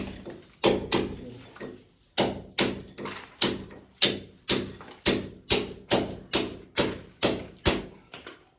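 A hammer strikes hard more than a dozen times in a steady, even rhythm. Each blow is a loud, close, sharp metallic knock that rings briefly, with one short pause early on.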